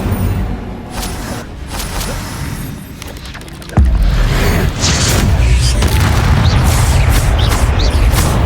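An Incendio fire spell is cast in Hogwarts Legacy, with sharp booms and bursts over rumbling combat noise, then a loud sustained roar that begins abruptly partway through and keeps going.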